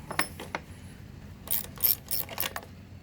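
A ratchet removes the air filter bolts on a Honda engine, with rapid clicking bursts at close range, a short pause, then a longer run of louder ratcheting clicks.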